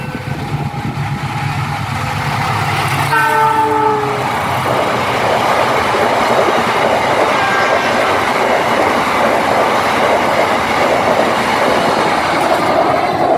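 An Indonesian passenger train pulled by a CC206 diesel locomotive rumbles past up close, a loud, steady roar of wheels on rails with a short horn-like tone near the start.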